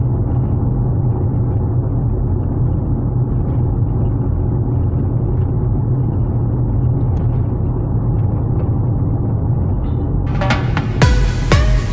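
Plug-in hybrid car accelerating uphill at 80% while towing a box trailer, a steady low rumble and road drone throughout, with a few sharp clicks or knocks near the end.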